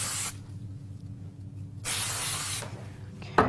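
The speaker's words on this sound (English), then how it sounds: "a little bit of spray glue on it." Spray glue hissing from an aerosol can during paper crafting, two steady bursts of spray separated by a quiet pause, close and clear, ending with a brief knock.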